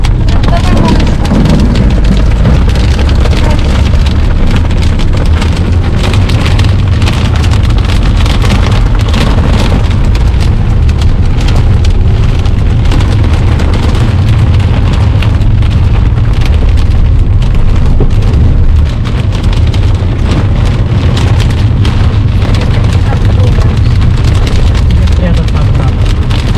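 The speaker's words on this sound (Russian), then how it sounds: "Еще град начал." Hail pounds a car in a dense, continuous roar of hard impacts on the body and roof, loud and unbroken throughout, with occasional deeper thuds and voices barely audible underneath.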